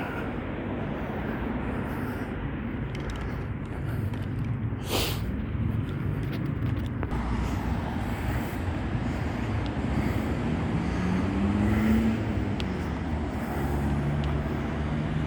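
A race engine idles roughly and unevenly in a car, a steady low rumble running the whole time, close and fairly loud, with no talk over it.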